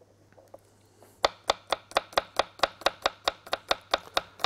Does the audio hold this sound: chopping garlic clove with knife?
yes